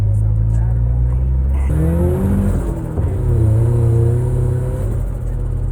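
A turbocharged Volvo 240 engine revs loudly on the road with a deep exhaust rumble, pitch climbing and falling through gear changes, close and continuous.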